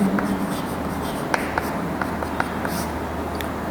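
Writing out a geometry proof about triangles on a board during a class-10 lesson: soft scratchy strokes and light taps in an irregular rhythm over a steady room hum, with faint voice murmurs.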